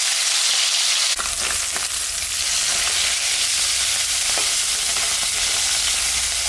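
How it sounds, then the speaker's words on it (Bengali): Prawns frying in hot oil in a wok (kadai): a loud, steady sizzle that swells suddenly after a brief quieter start and keeps crackling throughout, with no voices. "এখন আমি মাছটা ভেজে নেব"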